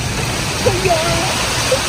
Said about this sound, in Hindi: थोड़ी देर में बारिश सर पे बज रहे हैं अंदर